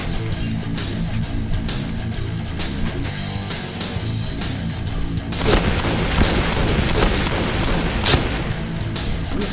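Repeated booming video game explosions and bursts of gunfire-like impacts, loud and dense, shifting to a heavier rumbling barrage partway through, with no speech.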